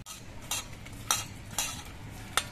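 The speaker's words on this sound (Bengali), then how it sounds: "এবার মাছের মধ্যে অল্প একটু নুন আর একটু হলুদের গুঁড়ো মাখিয়ে নিচ্ছি।" Shrimp being hand-mixed with salt and turmeric powder in a bowl for a potol chingri curry, with a few soft clinks and scrapes that recur every half second or so over a faint steady background hum.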